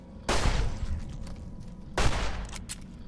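Video game gunfire bursts out twice, about a second and a half apart, each a loud sharp volley trailing off into rumbling noise.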